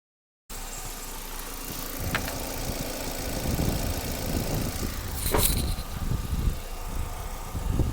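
A Chevrolet car engine idles steadily during a radiator coolant flush with plain water, a constant close mechanical hum with a faint clank partway through.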